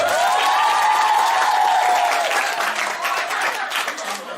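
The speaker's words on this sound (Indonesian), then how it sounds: "Sekali lagi biar mantap tepuk tangan kalian ya" A church congregation claps hands together during a Christian sermon, loud dense applause that swells at first and then gradually fades.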